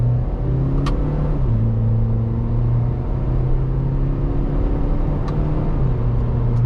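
2015 MINI Cooper Countryman S ALL4 in sport mode, heard from inside as the engine drone climbs in pitch through the gears, with audible drops at paddle upshifts; loud, continuous and close.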